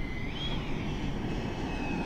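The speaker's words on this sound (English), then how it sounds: "Pumping the throttle, coming around." An E-flite SU-30 RC jet in flight with the throttle being pumped, a steady electric ducted-fan whine with a slight pitch rise over a broad rushing drone, no talking.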